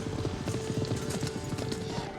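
Horse hooves clip-clop in a quick, uneven rhythm as a horse turns during a cane game of mounted combat, loud and close, with faint voices behind.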